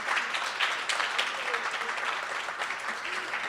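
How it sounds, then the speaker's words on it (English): Audience applause after a dance performance at Flushing Town Hall, a steady wash of clapping from a crowd that holds fairly even through the whole stretch, with faint voices mixed in. "if you want to give them a round of applause"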